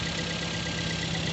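A Toyota Vios engine runs at idle with the cooling system open during a thermostat valve replacement, a steady even drone without pauses and no speech.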